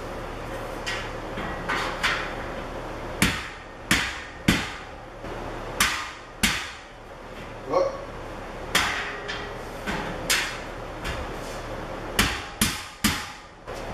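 Sharp hammer blows knock down a post of a metal shelf storage rack in an irregular series, a dozen or so knocks with short pauses between, close by and fairly loud over a low background hum.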